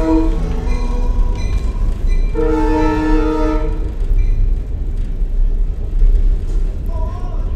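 A train passes in East Philly, its engine rumbling steadily and a horn sounding in a sustained blast midway, fairly close and loud; a voice briefly talks at the start.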